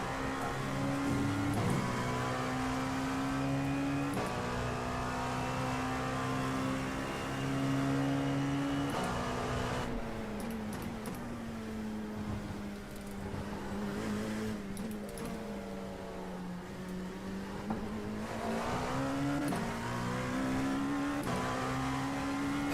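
A race car engine in a Le Mans racing video game drones steadily while running in another car's slipstream. The whine holds high revs with small dips and rises at gear changes, continuous and alone.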